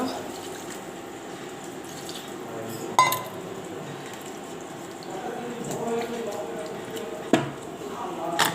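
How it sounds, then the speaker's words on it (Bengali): Water is added to an okra and potato curry in a pan, a soft, wet splashing texture mid-clip, with light utensil clinks around it. "তারপর এটাকে পানি অ্যাড করে দেব।"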